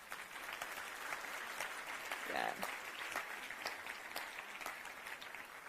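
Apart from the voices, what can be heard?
audience applause at EU climate event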